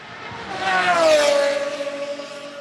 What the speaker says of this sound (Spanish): es un auto especial que hizo una edición Horacio Pagani de cinco, cinco unidades nada más